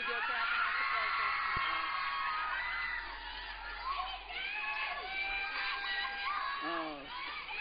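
A television studio audience screams and cheers for a teen reality show contestant, a dense, shrill crowd roar with whoops and shouts that stays loud throughout, dipping briefly midway as talk carries over it.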